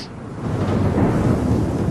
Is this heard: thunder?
yes